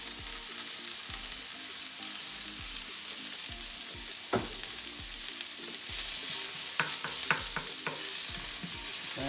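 Peppers, mushrooms and other vegetables sauté beside a venison burger in a pan, a steady close sizzle broken by repeated scraping stirs and a few sharper clicks of the utensil against the pan, with no talking.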